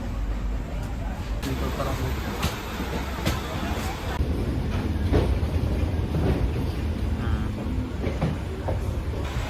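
Vibhuti Express train between Howrah and Bardhaman Junction rolling along the rails, a loud continuous rumble with periodic clicking joints heard from inside the coach.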